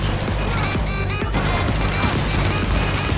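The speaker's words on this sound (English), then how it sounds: "I just filled your chest with MP5 ammo." MP5 submachine gun fire rattles in Resident Evil 0, a steady barrage of loud, rapid shots with crashing impacts throughout, no voices on top.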